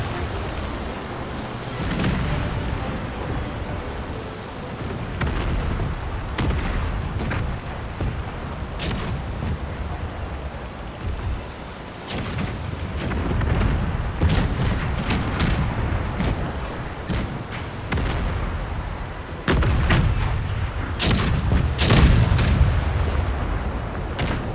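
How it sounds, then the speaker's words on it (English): Broadside cannon fire of chain shot from sailing warships in the naval battles of Empire: Total War, a long stretch of repeated booming blasts and rumbles over a continuous sea-and-battle roar, with sharper cracks clustering in the later half. "Load a broadside. See if we can disable one. And we're going to do it with a chain shot."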